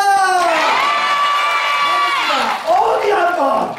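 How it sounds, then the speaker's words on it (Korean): A crowd at a traditional Korean folk performance by a city percussion troupe cheers and whoops loudly, with children shouting and a sustained roar that dips briefly before swelling again. "자 마지막 공연 여러분 박수 많이 쳐주실 거죠?"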